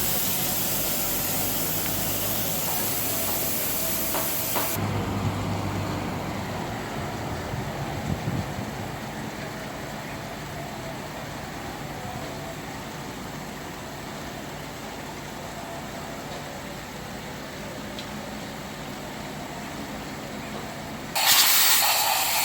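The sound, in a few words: air gun blowing water off engine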